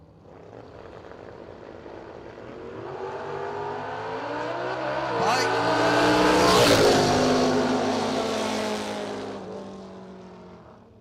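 At a drag race, a car faces a motorcycle, their engines roaring louder as they build to a peak just past the middle, then fading away, with no talk over them.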